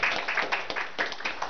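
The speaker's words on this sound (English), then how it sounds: "Give Rebecca a round of applause, please." A small audience at a performance claps in a brisk burst, uneven individual hand claps overlapping into light applause, close and moderately loud for a short stretch without voices.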